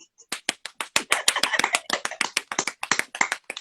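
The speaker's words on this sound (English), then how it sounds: "If I had more hands, I would clap more." Close, crisp hand claps in a quick, slightly uneven run, each clap sharp and distinct, carrying on steadily for a few seconds.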